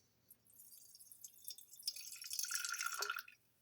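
Water poured from a container into a sourdough starter sitting on a kitchen scale, a thin trickling splash that builds over a few seconds and then stops, close and fairly quiet with no talking.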